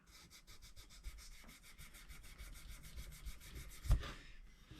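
Sandpaper rubbed back and forth along the neck of a cheap kit-built guitar gives quick, regular rasping strokes, close and fairly quiet, with one sharp knock near the end.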